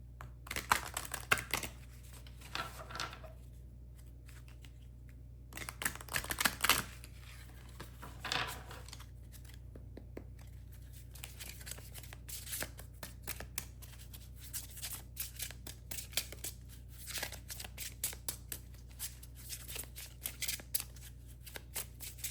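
Oracle cards being shuffled by hand at a reading, soft riffling and slapping bursts early on, then a long stretch of light, rapid clicks and flutters, close and fairly quiet, with no talk.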